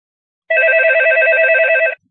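A loud electronic telephone ring sounds in one continuous warbling burst of about a second and a half, then stops into silence.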